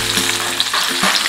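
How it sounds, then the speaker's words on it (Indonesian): Green beans being stir-fried in a generous amount of oil, producing a loud, steady sizzle close by that holds throughout, with faint stirring movements underneath. "Dan kita tumis buncisnya."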